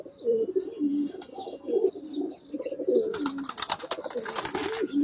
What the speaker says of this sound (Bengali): মাশাআল্লাহ খুব সুন্দর কবুতর